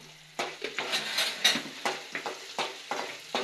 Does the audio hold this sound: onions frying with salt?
yes